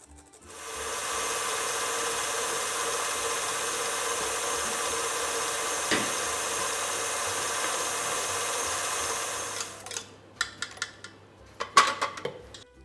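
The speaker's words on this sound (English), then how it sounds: "So my pate bomb is now just thickening up. 10 minutes of whisking." A stand mixer whisks pâte à bombe with a steady, loud mechanical whir for about nine seconds, then stops, followed by several clattering knocks of bowl and utensils.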